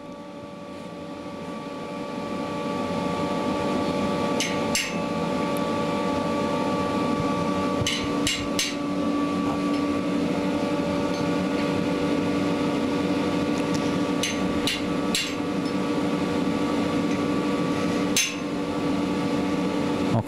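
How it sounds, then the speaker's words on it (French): Sharp hammer taps on a chisel engraving an art knife in a craftsman's workshop, a handful of crisp isolated strikes spread over the clip above a steady droning machine hum. "Il faut vraiment donner les coups de marteau précis."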